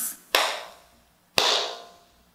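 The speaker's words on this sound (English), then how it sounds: "the first step is to clap two times" Two loud, sharp hand claps land about a second apart, each one close and crisp with a short ringing decay. The pair is part of the opening of a cup song rhythm.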